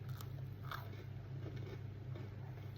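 Toasted croutons bitten and chewed up close, a quiet crisp crunch with a few sharp bites over a low steady background hum, no talking.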